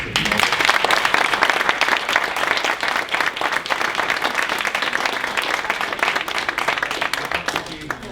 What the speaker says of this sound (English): I think another round of applause.